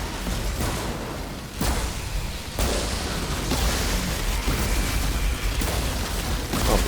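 A destroyer ship exploding in the Techno Tank: Worldslayer video game, a series of heavy booms and bursts rolling into a sustained roaring blast, loud and close, with several sharp impacts spaced a second or so apart.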